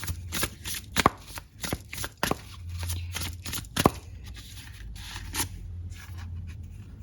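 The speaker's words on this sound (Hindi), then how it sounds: "लेट्स सी, कुछ और कार्ड लेते हैं।" Tarot cards shuffled by hand in a quiet room, a steady run of crisp riffling and slapping with sharp snaps of the deck, close and clear, with a low hum underneath and no talking.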